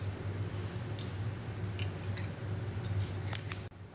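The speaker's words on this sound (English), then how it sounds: "I'll cut this yarn." Scissors snip through crochet yarn in several quick, crisp cuts at close range over a steady low hum, with no talk.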